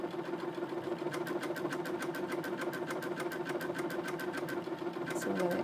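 A Brother VQ2 sewing machine stitches steadily, its quiet, even needle chatter running as a fast rhythmic pulse over a low motor hum, close and continuous throughout.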